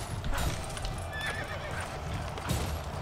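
Hooves clop and a horse whinnies in the Lego Lord of the Rings video game, with a quick run of hoofbeats under a high neigh, set against busy game sound effects.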